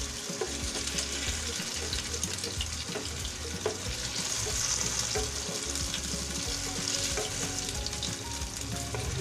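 Tofu frying in hot oil until golden brown, a dense, steady crackling sizzle close up that runs without pause, with faint scraping of a utensil in the pan.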